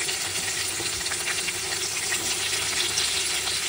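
Chopped onion fries steadily in a pan for a spicy butter chicken, giving a continuous close hiss and sizzle with light stirring that holds even throughout, no talking over it.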